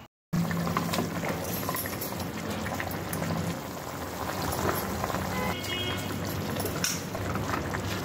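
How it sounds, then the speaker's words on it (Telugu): Soaked brown rice goes into a pot of boiling water and is stirred. A steady bubbling roil follows a brief silent start, with light splashes and stirring movement, and no voices. "నీళ్లు మరుగుతున్నప్పుడు నానబెట్టిన బ్రౌన్ రైస్ వేసి కలపాలి."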